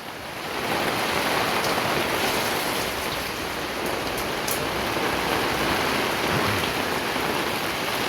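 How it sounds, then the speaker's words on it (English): Heavy rain pours onto a tarp at a beach house build site in the Philippines, a loud, continuous hiss and patter that swells after a quieter start and stays steady throughout. "The rain's getting harder."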